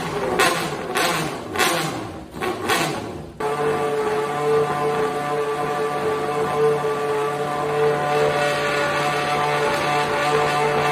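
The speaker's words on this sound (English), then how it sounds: "It's exhaust drone, or call it resonance." A car fitted with a concrete exhaust gives off a steady, low droning resonance that holds at an even pitch, preceded by a few sharp broadband bursts in the first seconds.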